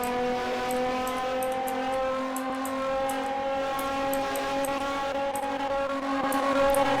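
A Peugeot 205 with a V6 engine swap pulls in fifth gear at speed, a steady, loud, droning engine note with strong even harmonics and a slight rise in pitch, plus faint ticking and rattles from inside the cabin.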